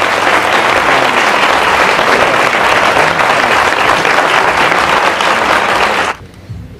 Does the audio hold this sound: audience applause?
yes